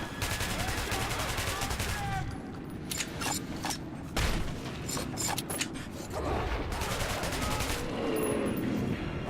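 Heavy gunfire in the video game Metro, with repeated bursts of rapid automatic shots and single blasts spread across the scene, loud and continuous amid clatter and other game effects.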